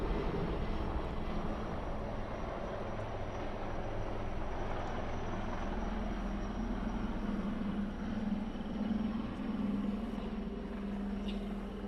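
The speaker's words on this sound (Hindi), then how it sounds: "एएलएच की इस त्रिकोणीय बनावट के फ्लाई पास्ट के पायलट हैं lieutenant colonel Vinod Bhaskar, major Jagdish Agnihotri और मेजर लिजित कृष्णा।" Army ALH helicopters pass overhead in a triangular formation during a flypast over Ladakh, a steady loud rotor and engine roar that holds through the whole stretch with no talk.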